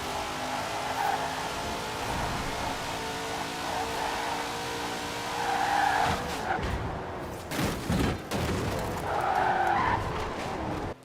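Hot Wheels Twin Mill, a 1918 brake horsepower car in Forza Horizon 4, roaring with a high engine whine as tires screech in long skids, then sharp bursts of revving and sliding.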